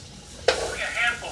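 Food for pepper steak being stirred in a hot pan, a sharp scrape and clatter followed by a swelling sizzle, heard close and briefly with no talking.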